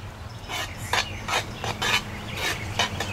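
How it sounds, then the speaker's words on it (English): Melted butter being lightly stirred into cobbler dough in a cast iron skillet over a campfire: a run of short, scraping spoon strokes about every half second, close and fairly clear over a low steady background rumble, with no talking. "we're going to just slightly stir the butter into it"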